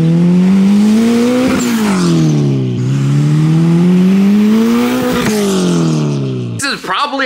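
Turbocharged K-swapped Toyota MR2 heard from outside, its engine droning loudly and rising and falling through sustained revs, with a sharp burst near the end.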